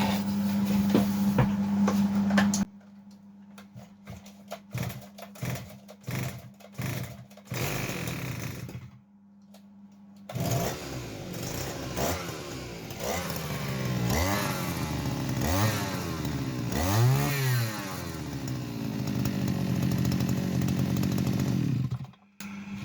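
A Chinese-made petrol brush cutter, its carburettor just cleaned after winter storage, sputters through a few short bursts, then catches and runs loud and steady with rising revs, struggling a bit at idle.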